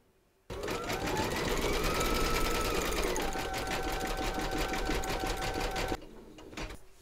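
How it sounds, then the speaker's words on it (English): A vintage sewing machine stitching steadily with a fast, even mechanical whir and rapid clatter, loud and close, running alone for about five and a half seconds before stopping abruptly. "Load your matching bobbin and thread colour for the top of the cotton reel into your machine, and then stitch round number 12"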